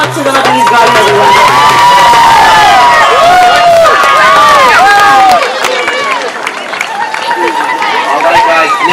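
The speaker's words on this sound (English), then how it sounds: "give a round of applause to the Lebanese Garden, everyone." An outdoor crowd at the Parade of Flags at Cleveland One World Day 2023 cheers, shouts and applauds loudly and continuously, with excited voices and children's shouts layered over the din.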